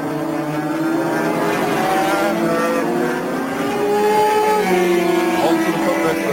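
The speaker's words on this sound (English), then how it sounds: "Nation leaving the rest of the field in his exhaust fumes from that flying Norton" A Norton racing motorcycle at full throttle in a road race, its engine a loud, sustained high-revving roar with shifting pitch as it passes close by, alone without talk.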